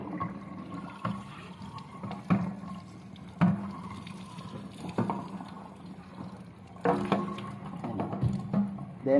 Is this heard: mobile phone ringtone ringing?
no